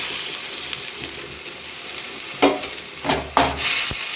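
Onion and tomato sautéing together in a pan for prawn thokku produce a continuous close sizzle and stirring, broken by a few sharp spatula scrapes and clinks against the pan near the end.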